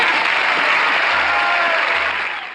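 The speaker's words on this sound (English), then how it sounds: "Listen to that studio applause" Studio audience at a taped TV sitcom breaks into sustained, loud applause, a dense wash of clapping that holds steady throughout and begins to taper off at the very end, with no talk over it.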